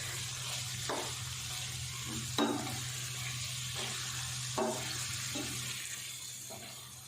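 Chopped boiled eggs and green coriander stirred into a sizzling masala for egg bhurji, with a steady close frying hiss and a few sharper stirring scrapes, no talking.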